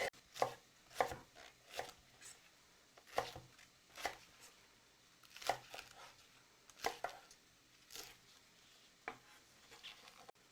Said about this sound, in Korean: 대파 반뿌리 되겠습니다. 이것도 어석어석 썰겠습니다